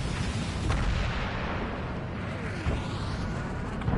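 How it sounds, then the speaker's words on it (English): A missile launches in Ace Combat 7 amid a continuous roar of jet flight, with a brief whoosh and booming rumble that stay loud and dense throughout. "Missile fired."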